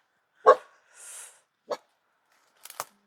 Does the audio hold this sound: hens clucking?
no